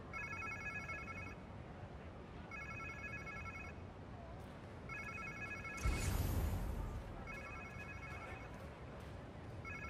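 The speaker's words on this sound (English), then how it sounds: "Sounds like somebody's phone." Inside the video game Marvel's Spider-Man 2, a telephone rings in repeated evenly spaced electronic bursts over a low ambient background, with a short louder burst of game noise midway.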